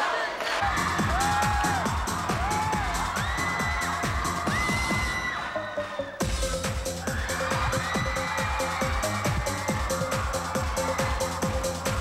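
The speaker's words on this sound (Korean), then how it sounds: "박수 한번 보겠습니다" Crowd of high school students at a school quiz-show taping clapping and cheering loudly, with whoops and shouts over dense, steady applause that swells again midway; a voice talks over it.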